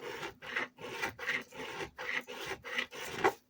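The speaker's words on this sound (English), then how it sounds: "Just going to grind away." A file rasps back and forth over the metal frets of a Telecaster guitar neck in steady, evenly spaced strokes, close and fairly quiet, about seven passes with brief pauses between.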